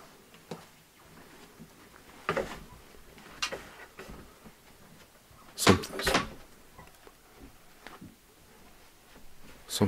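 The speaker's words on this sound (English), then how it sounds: "Why is the door moving?" Wooden knocks, creaks and bumps from a door moving and closing inside an old house, scattered irregularly and close by, with sharper clustered clacks midway and quiet room tone between.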